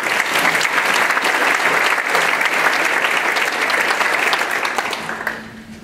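An audience at a Rotary Club of Tulsa luncheon breaks into sustained, full applause, dense and even for several seconds before tapering off at the end.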